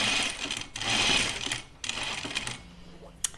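A sewing machine stitches a dress, running in steady bursts with brief pauses between runs and a small clack near the end, close and alone.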